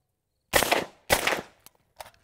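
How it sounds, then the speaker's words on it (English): Two loud rifle shots go off about half a second apart, each with a short echoing tail. Two brief metallic clacks follow as the bolt locks back to the rear. "fire the first round, feel the full impulse of the recoil, and then fire the second round, you'll feel that bolt lock back to the rear"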